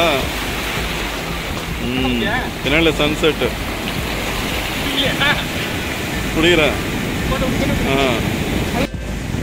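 Surf rolls onto Alleppey Beach in Kerala at dusk, a steady wash of crashing waves up close, with someone talking over it at intervals.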